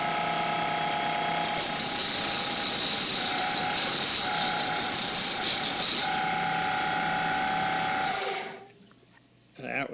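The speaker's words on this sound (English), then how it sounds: "sander here that has a metal sanding belt on it, and I'm going to kind of dull this up right here." A sander fitted with a metal sanding belt dulls a fly-tying tool, making a loud, harsh grinding hiss for several seconds with slight surges before the motor whines down and fades.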